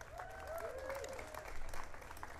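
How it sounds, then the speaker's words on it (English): An audience at a presidential ceremony honoring NCAA student athletes applauds, a steady wash of clapping with a brief tonal voice-like sound early on and a slight swell near the middle. "Give Jim a big round of applause."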